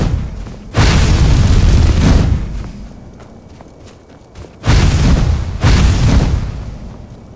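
Fireball spells go off in the video game Skyrim as two deep, booming blasts, each rumbling for about a second and a half, loud and close, with a quieter gap of low thuds between them.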